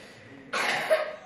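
A single close, raspy cough bursts out, short and harsh, ending in a brief wheezy catch before fading.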